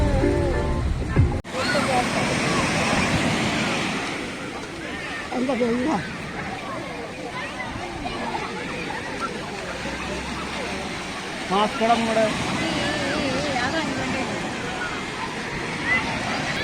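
Sea waves at a beach on a family's first seaside trip, heard as a continuous rushing wash of surf that runs the whole time beneath nearby people chatting.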